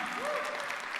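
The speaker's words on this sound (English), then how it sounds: "we do need another round of applause to all of ourselves" A short, faint burst of applause rises from an audience at an industry talk on the future of blockchain.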